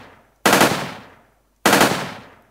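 Two loud bursts of rapid weapon fire from an Unreal Engine 4 game demo, each a sharp crack whose dense rattle fades out over about a second, separated by a short silent pause.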